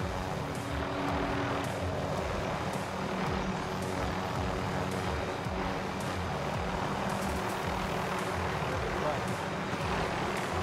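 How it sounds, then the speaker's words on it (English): A helicopter flies overhead in the Call of Duty Warzone video game, a steady droning rotor and engine rumble filling the scene continuously, with game sounds and a faint voice mixed in. "We've got helicopter above us."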